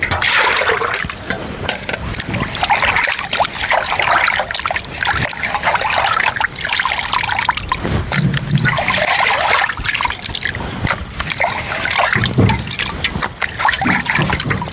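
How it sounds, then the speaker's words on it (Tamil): Fish being washed by hand in water, close sloshing, splashing and trickling that runs continuously with uneven swirls and splatters, no talk over it. "நல்லா கழுவணும் இன்னும் 2-3 தண்ணியில்."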